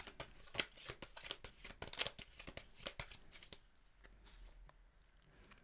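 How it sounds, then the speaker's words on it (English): Tarot cards being shuffled by hand, close up: a busy run of crisp riffling and slapping strokes that thins out and grows quieter toward the end. "let's just do a little bit of shuffling and see what the cards have to tell us today."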